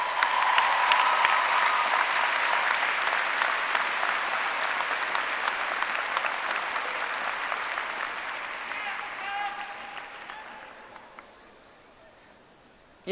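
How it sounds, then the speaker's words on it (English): Sustained crowd applause from graduates at a Seton Hall University baccalaureate commencement ceremony, a dense, steady roar of clapping that slowly fades out over about ten seconds. "Give yourself a round of applause for that."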